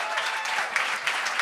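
Crowd applause fills a comedy stage as the audience claps for a comedian's first time performing, a dense steady patter of many hands throughout with a faint voice underneath.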